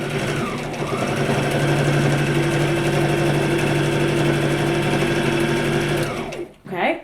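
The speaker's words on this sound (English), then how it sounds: "now I'm just gonna pop it on my machine and sew one straight line." A sewing machine stitches a straight line on a fabric face mask, running fast with a steady mechanical whir and rapid needle rhythm for about six seconds, then stopping abruptly, with a voice speaking over it.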